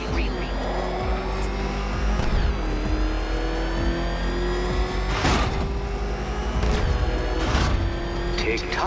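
The Batmobile's engine in Batman: Arkham Knight hums and revs steadily with shifting pitch, bursts of mechanical clatter rising over it, while a voice talks over the engine throughout.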